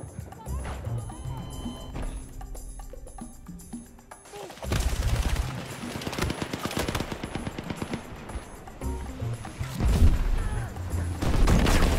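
In the video game Battlefield 6, a grenade blast hits and heavy gunfire rattles: first quieter, scattered shots, then a loud, dense burst of rapid automatic fire and explosions, with a person talking over it.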